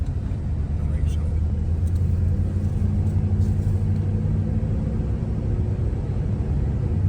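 A used car's engine hums steadily with a low, continuous rumble while driving, and a person talks over the motor throughout.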